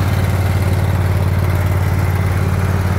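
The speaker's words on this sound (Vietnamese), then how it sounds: "Thôi em cho máy nổ rồi nha." A Shibaura HST16 Japanese-market ride-on lawn mower engine runs steadily at idle, a close, loud, low even chugging drone with a regular pulse throughout and no talking.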